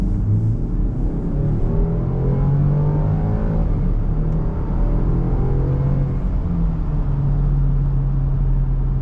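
A 2020 Land Rover Defender 110 P250 accelerating in sport mode, its engine giving a steady, close rumbling drone that rises gradually in pitch with no one speaking.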